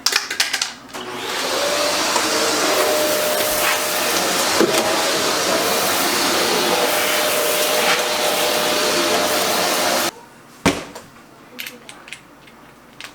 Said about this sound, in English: I'm gonna start the vacuum.